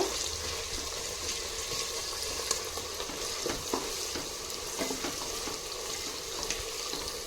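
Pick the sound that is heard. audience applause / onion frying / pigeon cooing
onion frying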